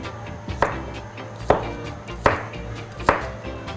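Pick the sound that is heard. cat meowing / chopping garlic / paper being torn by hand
chopping garlic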